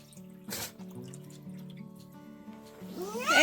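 A faint trickle of water from an opened tap at a homestead runs through the moment, with a brief splash near the start and louder running toward the end.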